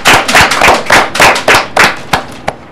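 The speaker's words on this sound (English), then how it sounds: "Let's give Miss Kao a round of applause." A round of applause for Miss Kao at a school gathering, loud and close, coming as about a dozen distinct rhythmic claps in steady pulses that fade toward the end.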